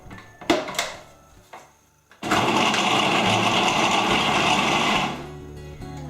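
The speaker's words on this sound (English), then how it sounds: "we're just going to pop on the lid, give it a blend, and it's literally going to take like a couple of minutes to do" A lidded blender whirs loudly for about three seconds, churning a chocolate almond butter fudge mixture, then winds down. A few clicks and knocks come first, and no voices are heard.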